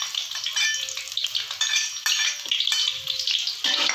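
Garlic fries in hot cooking oil in a pan for a stir-fried sardine and Indomie goreng dish, a steady close sizzle and crackle with occasional scrapes and taps of a utensil against the pan.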